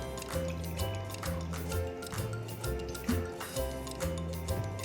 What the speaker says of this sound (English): I am going to pour the water on another cup